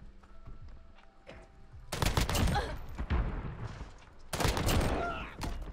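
FR 5.56 assault rifle fire in a shooter game, two loud, close bursts of rapid shots separated by a brief lull, with quieter footsteps and game noise before the first burst.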